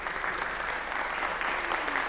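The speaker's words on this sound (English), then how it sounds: "a round of applause for Kensington" Audience applause at a company talk event, a steady dense wash of clapping sustained throughout at moderate level, with no voices over it.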